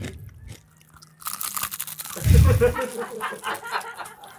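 Crunchy chewing of crispy food while eating on camera, with a loud close bite and then repeated crackly crunches. A short murmur comes before the chewing.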